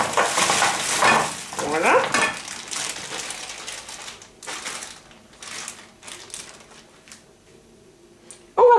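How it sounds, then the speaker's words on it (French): A packet of spinach cooks over medium heat in a pan with a little water, stirred with scraping utensil strokes that sizzle loudly at first and then thin to quieter clinks, with a brief spoken word at the end. "on va mettre tout simplement le paquet d'épinards"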